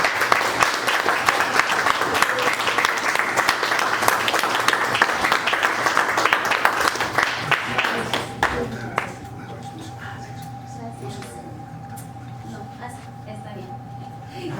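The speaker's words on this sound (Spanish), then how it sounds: "Un aplauso, por favor." Audience applause at an award ceremony honoring a founding member, a dense burst of clapping for about eight seconds that then drops away, leaving quiet room noise with a faint tone and speech in the background.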